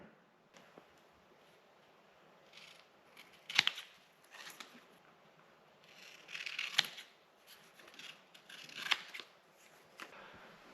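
Dust collection ductwork sections being cut in a workshop, with a few separate bursts of crisp metallic snipping and rustling over a quiet background.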